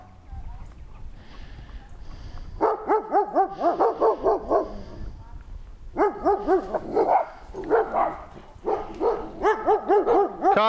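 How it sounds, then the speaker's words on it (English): Big German shepherd dogs bark in repeated bursts at moderate distance, loud volleys separated by short pauses, with a few quieter voices in the background. "Some big dogs are barking at him."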